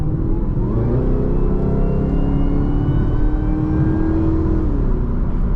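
A Camaro ZL1 fitted with a Corsa catback exhaust revs loud and close, its engine note climbing steadily through a long pull, then easing slightly near the end.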